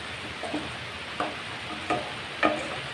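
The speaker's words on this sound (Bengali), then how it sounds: "দিয়ে আবার মশলাটাকে নেড়ে ছেড়ে শুকনো শুকনো করে নেব।" Spice paste with tomato sauce being stirred and fried in a pan, a steady sizzle with several scraping strokes of the spoon at regular intervals, close and alone.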